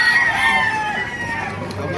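A rooster at a chicken market in Baliuag, Bulacan gives a single loud, drawn-out crow up close, with faint background voices and market noise.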